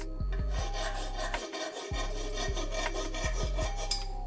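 Steady back-and-forth rasping of a metal file smoothing sharp edges on a Vespa scooter engine part, repeated strokes in an even rhythm with a brief pause midway, close and clear with no talk.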